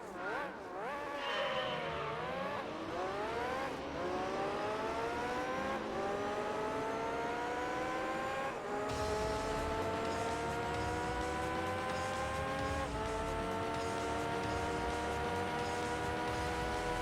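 LMP race car engine in Gran Turismo 3, loud and close, revving up through several gears with clear rising pitch sweeps and brief drops at each shift, then a long sustained high-rpm howl.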